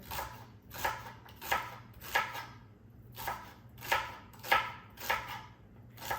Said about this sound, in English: just slice it up. Rough chop.